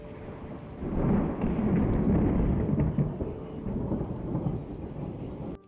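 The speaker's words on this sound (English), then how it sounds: "Thunderstorms could arrive quickly on the trail" A thunderstorm rolls through the Kumano Kodo Nakahechi mountain trail, with heavy rumbling thunder sustained for several seconds over steady rain, loud and close, with no talk.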